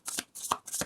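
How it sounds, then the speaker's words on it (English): Three quick riffle shuffles of a card deck, each a crisp fluttering burst with short pauses between, close and clear. "I just really like shuffling on camera."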